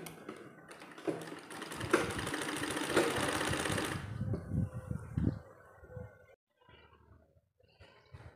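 A sewing machine stitches the panels of a six-panel petticoat in one fast, rattling run of about four seconds, then a few softer handling knocks follow.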